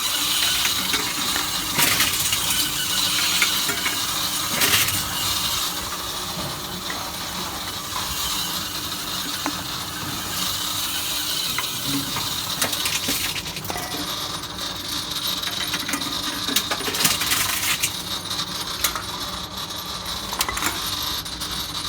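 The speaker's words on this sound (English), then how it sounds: "There's a lot of junk stuck in that compactor." Continuous mechanical grinding and clattering from the compactor of a Tomra T-70 reverse vending machine crushing returnable containers, with rattling, clicking bursts and occasional crunching, no voices.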